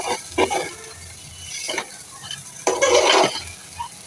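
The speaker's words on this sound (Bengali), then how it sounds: "ভালো করে কষিয়ে নিয়ে" Potato ghati, a Bogura-style dish, is stir-fried in a pan: intermittent bursts of spatula scraping and stirring over a light sizzle, with the loudest, longest stroke near the end.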